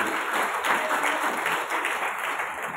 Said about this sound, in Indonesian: Boleh tepuk tangan kepada mereka.